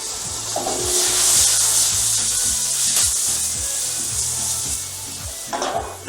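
Pork slices with smoked paprika and cayenne pepper are stirred and scraped in a pan, with rhythmic rubbing strokes over a steady sizzle, close and clear with no talking.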